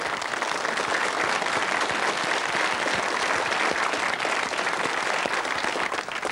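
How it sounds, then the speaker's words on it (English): Studio audience on a 1996 British game show claps in a steady, dense burst that holds evenly throughout, close and full with no talk over it. "Round of applause,"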